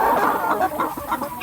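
Pastured laying hens cluck in short bursts close by, a busy scatter of soft calls with no talking.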